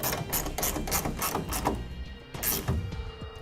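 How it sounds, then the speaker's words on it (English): A 9/16 wrench tightens a clamp bolt on a truck tonneau cover's top rail, giving a close, fast ratcheting clicking in rapid bursts with a short pause between them. "Put some pressure on the top rail, 9/16 wrench to tighten it down."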